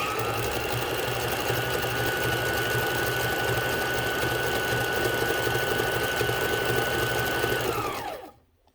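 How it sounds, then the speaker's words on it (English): A repaired Kenmore sewing machine runs a stretch straight stitch in one continuous, close, steady mechanical whir with a fine rhythmic chatter, lasting about eight seconds before stopping abruptly. "this is the stretch straight stitch"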